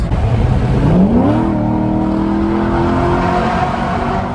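A C7 Corvette Z51 engine revs hard under an underpass, its pitch sweeping upward and then holding at a loud, steady roar close by.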